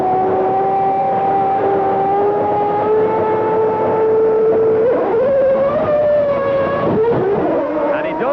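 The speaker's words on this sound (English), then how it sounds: "This is Jean Alesi, the race leader, making his pit stop for Ferrari." A 1994 Ferrari Formula 1 car leaves its pit stop at the Portuguese Grand Prix, its high-pitched engine howling steadily, then climbing and wavering through gear changes as it pulls away, loud and close with crowd and track noise behind.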